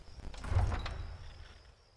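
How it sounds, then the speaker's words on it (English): A city gate swings open in the Skyrim video game, a single heavy sliding, grinding movement that swells at the middle and fades over a couple of seconds, with no one speaking. "Let me open the gate, and you can head into the city"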